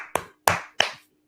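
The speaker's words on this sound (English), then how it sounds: "Clap it up, man." Three short bursts of hand clapping, evenly spaced, each a sharp smack fading quickly, with silence after the last.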